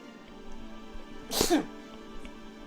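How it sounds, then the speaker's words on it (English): A single sharp sneeze bursts out near the mic, brief and forceful, over a quiet room hum. "I had to sneeze there for a second."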